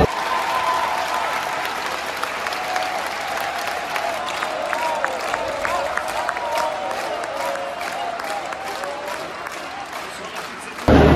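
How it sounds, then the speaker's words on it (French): A theatre audience gives a standing ovation inside the basilica of Saint-Nicolas-de-Port, with dense, sustained applause filling the reverberant space for over ten seconds before cutting off abruptly. "Une standing ovation ce soir, ça vous fait plaisir?"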